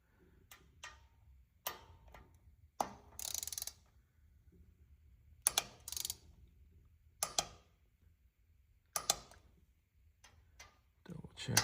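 A torque wrench ratchets and clicks in short, separate bursts while breather bolts are tightened on a Harley-Davidson Iron. The clicks are close and fairly quiet, with stillness between them.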